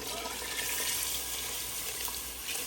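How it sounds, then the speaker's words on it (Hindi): Water pours in a steady, continuous rush into a pot of haleem, a dense hiss with no talking and no pauses. "अब इसके अंदर आपको पानी डालना है"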